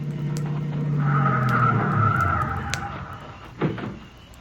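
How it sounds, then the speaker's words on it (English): Two cars pull in close with a steady engine roar, then tires skid and scrape as they brake hard to a stop, followed by a short thump. "Here comes a couple of cars."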